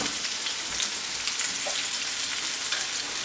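Pork chops sizzling in a hot pan, a steady bright crackling hiss that runs continuously without pause, close and fairly loud, with no talking.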